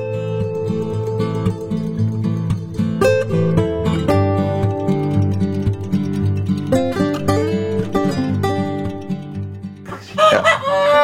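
KUB chicken roosters crow repeatedly on a chicken farm over a busy background of many hens clucking and cackling, loud and close, with a louder crow near the end.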